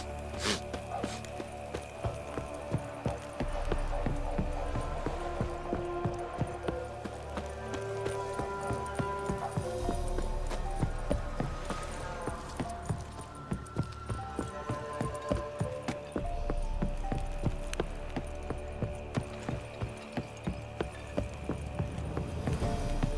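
Roach, the horse in The Witcher 3, moves at a steady clip-clop gait through Velen, with hoofbeats tapping in a continuous rhythm under a layered game music bed for the whole stretch.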